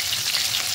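Chopped onion frying in hot oil with whole spices for Bengali uchche aloo chorchori, a loud, dense, continuous close sizzle without pauses or voices.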